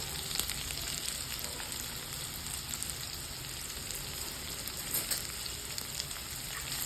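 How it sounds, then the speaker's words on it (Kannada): Crushed ginger and garlic with curry leaves frying in hot oil in a pan for a baby potato fry, a soft steady sizzle with faint crackles throughout and no talking. "ಇದು ಚೆನ್ನಾಗಿ ಫ್ರೈ ಮಾಡ್ಕೊಳ್ಳೋಣ."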